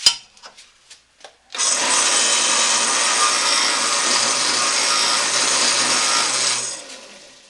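A few light taps come first, then an 80 grit sanding disc bites into the wooden handle scales of a full tang knife with a loud, steady abrasive roar lasting about five seconds before it tapers away.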